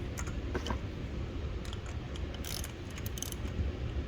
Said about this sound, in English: And then we'll secure it down with a 3/8 ratchet.